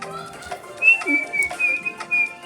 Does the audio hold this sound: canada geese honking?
no